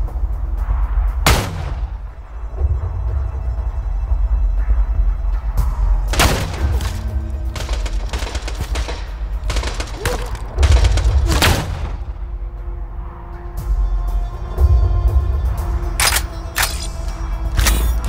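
Gunfire from a weapon in the video game Borderlands 2: sharp, loud bursts of shots spaced irregularly, several separate volleys standing out over a constant dense background of game noise.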